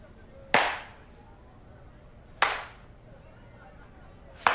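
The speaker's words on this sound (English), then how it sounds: "You can't talk and then do a slow clap." Three sharp, isolated claps spaced about two seconds apart form a deliberate slow clap in a cartoon episode, each crisp and close over a quiet background.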